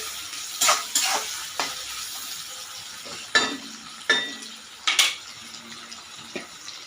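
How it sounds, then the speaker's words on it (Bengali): Onion frying in a pan, a low steady sizzle punctuated by a handful of sharp scraping stirs at irregular intervals. "পেঁয়াজটা একটু ভাজা হয়ে যাক"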